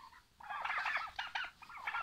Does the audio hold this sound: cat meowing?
no